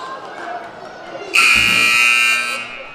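A high school basketball game buzzer sounds one loud, sustained electronic blast of about a second, rising sharply out of quieter gym ambience with voices around it.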